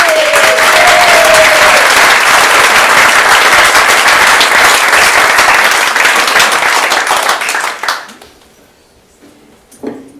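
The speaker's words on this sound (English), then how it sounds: "Big round of applause" Big round of audience applause greets comedian Steve Canavan at a comedy club monologue show, loud and sustained for about eight seconds before fading, then a brief burst near the end.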